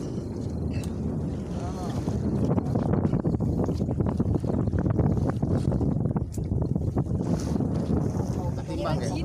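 A boat motor drones steadily at sea during a marlin chase, with heavy wind buffeting and water noise throughout and voices calling out now and then.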